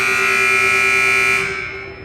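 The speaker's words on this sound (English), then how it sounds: "There's the buzzer to call both teams out for the start of tonight's action." A loud, steady electronic buzzer at a high school girls' varsity basketball game sounds continuously in a gym before tapering off, calling the teams out to start play.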